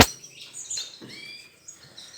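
Canaries in a breeder's aviary give a few short, high chirps and thin tweets, fairly faint and scattered against a quiet background.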